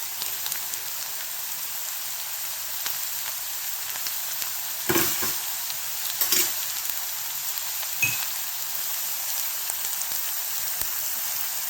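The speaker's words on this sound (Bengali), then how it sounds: "সেই আলুগুলো দিয়ে দিয়েছি। তারপরে আবার ভালো করে নেড়ে চেড়ে নিলাম।" Potatoes fry in a pan for aloo poha with a soft continuous sizzle, broken by a few sharp scraping stirs of a utensil against the pan. No one speaks.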